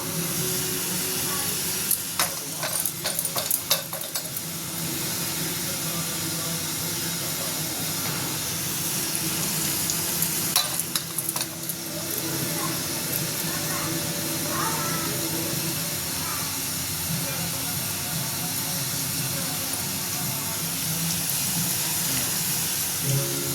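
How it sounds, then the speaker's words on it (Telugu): Dough balls deep-frying in hot oil give a steady, dense sizzle and hiss throughout, with brief louder crackling bursts early on and near the middle. "ఇది మనం బ్రౌన్ కలర్ వచ్చేంత వరకు ఇది ఫ్రై అవ్వాలి"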